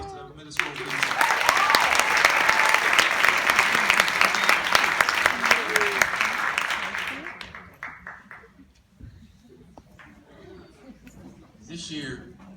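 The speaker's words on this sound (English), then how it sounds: "Big round of applause to the middle school team." An indoor crowd at a school basketball awards event claps loudly for a middle school team, the sustained applause lasting about seven seconds before fading into quieter room sounds and faint voices.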